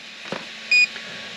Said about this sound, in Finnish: nyt vielä kerran kun painetaan, niin nyt se piippaa vain kerran